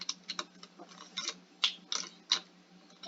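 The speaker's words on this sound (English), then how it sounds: "Somebody keeps typing things." Rapid keyboard-like clicks and taps from in-game typing in the Roblox Ragdoll Engine game, a quiet irregular patter of short bursts with a few louder keystrokes, no voices.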